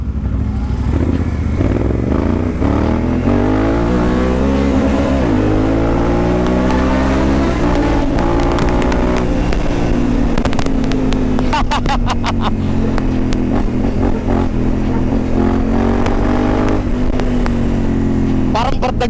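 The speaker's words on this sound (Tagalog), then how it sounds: "Ang lakas nung motor mo." A loud big-bike motorcycle engine rumbles and revs up and down up close, with people talking over the engine noise.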